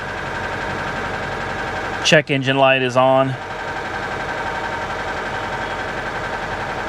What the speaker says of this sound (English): It runs perfectly smooth though, aside from the ticking noise.